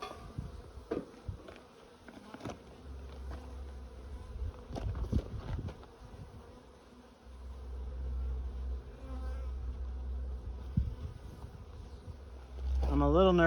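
Honeybees buzz in a steady, agitated swarm around an opened beehive during a hive check, a dense insect drone that swells louder near the end, with occasional knocks and handling noises underneath.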